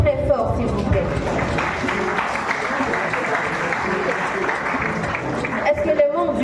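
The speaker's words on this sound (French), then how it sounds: "Est-ce qu'on peut les applaudir très très fort, s'il vous plaît?" A crowd at a student excellence ceremony in Meknes claps steadily and loudly for the whole stretch, dense applause with a few voices mixed in.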